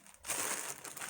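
Paper card being folded back into shape, a brief close rustle and crinkle of stiff paper that starts sharply and continues as a steady papery swish.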